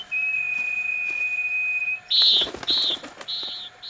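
A steady whistled tone holds for about two seconds, then gives way to three short, bright chirping bursts, like a bird calling close by.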